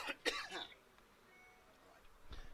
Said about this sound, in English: Just coughing himself to death.